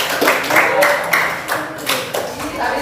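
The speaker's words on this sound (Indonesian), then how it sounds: "Kasih tepuk tangan buat kelompok F." A classroom of students claps for a group in short uneven bursts, close and fairly loud, with the teacher's voice and chatter mixed in.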